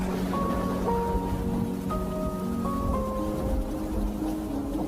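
Steady, heavy rain falls in a village, a continuous broadband hiss beneath soft sustained musical tones, with no talking.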